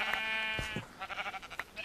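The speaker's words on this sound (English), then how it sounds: "let me take care of the sheep now" Sheep in a video game bleat in a few short, nasal calls, one after another, fairly close and clear over a quiet background.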